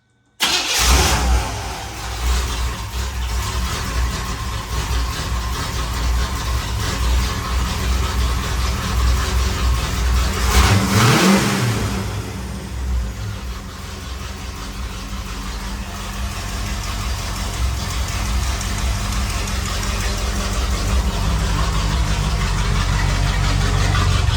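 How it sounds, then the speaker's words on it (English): A 1984 C4 Corvette's 350 V8 engine with new spark plugs cranks and starts, then settles into a steady, rumbling idle that continues for over twenty seconds, with a brief surge partway through. "we're gonna start it up just to see how it sounds with the new plugs"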